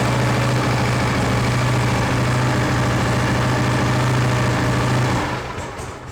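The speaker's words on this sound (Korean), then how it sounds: "일단 초크를 이용을 해서 시동을 걸었습니다." A Harley-Davidson Shovelhead motorcycle engine idling after a choke start, a loud, steady, lumpy low rumble that holds for about five seconds before easing down.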